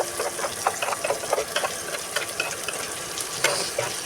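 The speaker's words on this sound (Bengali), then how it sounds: "এখন এটাকে ভালো করে নেড়ে চেড়ে কষিয়ে নিব" Spices are stirred and fried in a hot wok, giving a steady close sizzle with scraping and clinking of the spoon against the pan, with no talking.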